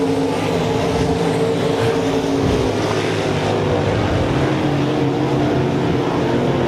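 305 sprint cars race at RPM Speedway in a URSS heat, their engines a loud, continuous roaring drone close by, holding steady without a break.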